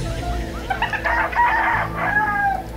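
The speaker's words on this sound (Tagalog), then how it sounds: "Uy, ang daming manok Isa lang pala. Isang tilaok rin na." A single rooster crows nearby with a drawn-out cock-a-doodle-doo, faint clucking and low background noise around it.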